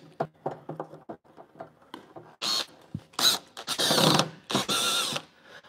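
Screws being driven back into a mini fridge during a custom wrap job, with soft clicks and light ratcheting at first, then several loud bursts of screwdriver or drill whirring near the end, close by.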